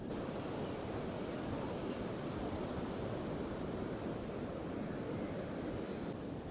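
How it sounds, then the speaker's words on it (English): Steady, dense roar of powerful surf at Bat Yam beach in Israel, a continuous wash of breaking waves with wind rushing across the microphone, unbroken for the whole stretch and with no voices. "The waves here at the beach in Bat Yam is more powerful than the waves in Tel Aviv"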